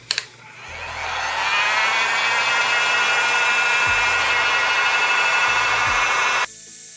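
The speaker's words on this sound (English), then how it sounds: "I'm using a heat gun with around 180 degrees Celsius to soften up the glue" Heat gun set to about 180 degrees Celsius blowing on a Xiaomi Mi 12 Lite back cover to soften the glue, a loud, steady airy roar running alone for several seconds after a couple of clicks, then cutting off.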